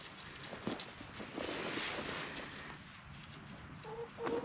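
Soft, scattered clucking from chickens outdoors on a homestead in frigid Illinois winter weather, mixed with rustling and light ambient noise, fairly quiet and at a moderate distance.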